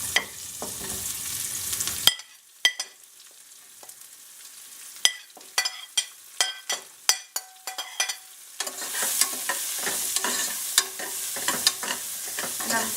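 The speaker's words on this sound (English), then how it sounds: "I'm just going to put my onions and fry them all." Onions frying in a pan for a red lentil vegetarian biryani: hissing sizzle at first, then a quieter stretch of repeated scraping and clinking stirring strokes, before a dense sizzle returns loud and close.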